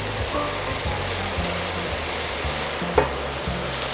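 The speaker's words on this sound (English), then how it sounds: "stirring this until I feel it got sauteed enough" Vegetables sauté in a hot pan while being stirred, a steady loud sizzle running throughout with a single sharp scrape of the utensil near the end.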